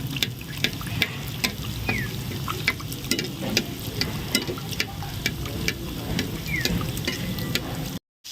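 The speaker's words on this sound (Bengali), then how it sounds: "এর উপরে তেল তুলে তুলে ভেজে নেব।" KFC-style chicken pieces deep-fry in hot oil two at a time while oil is spooned over them, a close, steady bubbling sizzle with sharp crackles and occasional spoon clinks, ending in a brief cutoff, no voices.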